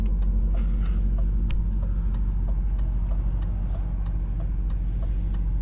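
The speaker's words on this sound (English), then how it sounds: "The engine's nice and tight" A 2001 BMW 740iL's engine runs steadily while driving, a low continuous hum with road noise and faint ticking, close and alone without talk.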